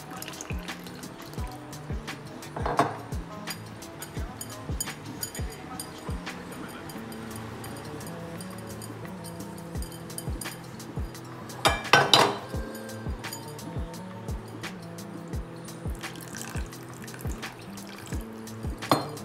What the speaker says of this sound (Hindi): और फिर इसमें हम थोड़ा थोड़ा करके पानी डालेंगे और इसको अच्छे से गूंदेंगे।